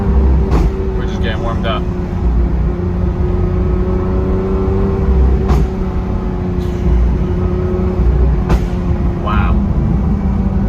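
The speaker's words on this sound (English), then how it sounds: "Every time you let off the gas, that pop never gets old." A Lamborghini Aventador SVJ's V12 drones steadily from inside the cabin, with occasional sharp backfire pops as the throttle lifts, and a voice talks briefly over the engine.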